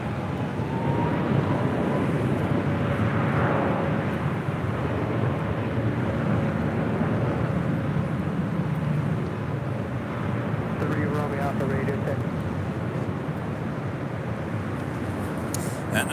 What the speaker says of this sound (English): This is American Airlines flight 2010 coming in from Philly on an A321neo.